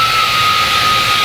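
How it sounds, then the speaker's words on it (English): An air pump runs in a makerspace workshop, a loud, steady whooshing hiss with a constant whine that holds unchanged for the whole moment. "It's our air pump."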